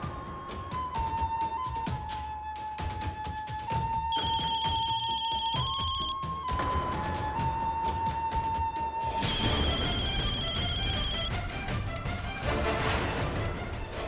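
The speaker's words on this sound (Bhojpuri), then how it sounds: "रितु के फोन" A phone's ringtone plays as a steady electronic melody over background music, continuous and fairly loud throughout, with no talking.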